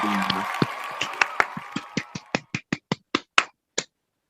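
Scattered hand clapping from a small group at a head-to-head contest, quickly thinning out into a dozen sharp, separate claps that slow and stop, then silence.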